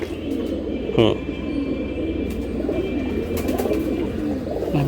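Silver beji pigeons coo softly amid a busy market-like background, with a brief sharp call near the one-second mark and faint rumbling throughout.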